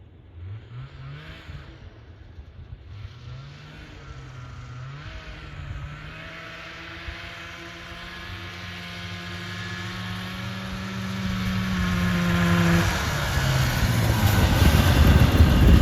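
A Yamaha Enticer snowmobile engine runs nearby, its pitch wavering and dipping unevenly at first, then climbing into a rising, louder rev toward the end.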